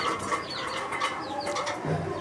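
Pigeons newly kept in a home loft coo softly in overlapping low calls. Faint rustling and other bird sounds fill the background, and no one speaks.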